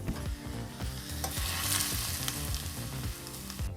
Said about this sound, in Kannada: ಈ ಕಡಲೆಕಾಯಿ ಬೀಜನೀಗ ಬಾಂಡ್ಲಿಗೆ ಸೇರಿಸ್ಕೊಳ್ಳೋಣ